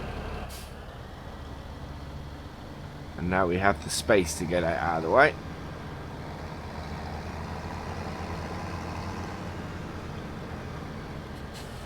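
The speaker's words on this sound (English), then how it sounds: "we're just going to get the tractor out of the way now" A tractor in Farming Simulator 17 on the Old Streams farm drones with a steady low engine rumble, idling and moving off. A short hiss like an air brake cuts in while someone talks briefly over it.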